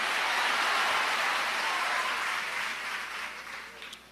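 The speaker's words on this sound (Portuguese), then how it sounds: "Você pode aplaudir ao Senhor e misturar nessas palmas glória e aleluia" A church audience claps in praise during a worship service, a dense hissing wash of many hands that starts full and slowly fades away over a few seconds.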